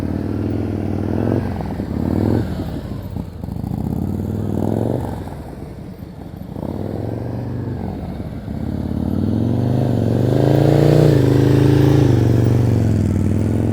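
A motorcycle engine loud and close during slow-speed practice riding, idling and rising in short revving swells with clutch changes, the engine note rumbling steadily low with some clatter throughout.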